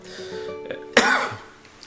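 A single sharp cough bursts out after a brief murmur, followed by a short fading tail.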